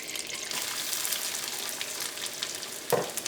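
Chopped onion dropped into hot oil and melted butter in a pan, a steady close sizzle and crackle of frying with a brief louder spatter near the end.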